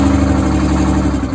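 Detroit Diesel 6-71 engine running, a loud, steady low-pitched diesel drone with a rapid pulsing exhaust beat and a gritty mechanical rattle throughout.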